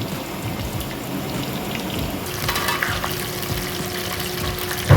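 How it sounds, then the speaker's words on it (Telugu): Chicken pieces fry in hot oil on a medium flame for a homemade chicken fry, giving a steady, close crackling sizzle like rain that continues throughout with a brief louder pop at the end. "మీడియం ఫ్లేమ్ మీద ఫ్రై అవుతున్నాయి ఇవి"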